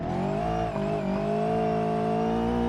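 A rally car engine in BeamNG drones loud and steady at high revs, its pitch swelling slightly as it holds on, close and continuous without talking.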